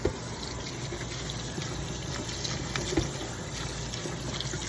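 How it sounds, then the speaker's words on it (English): Soft cherries are rinsed under a running tap, producing a steady, close wash of water with slight splashing shifts and no voices. "I'm just going to want to rinse the cherries."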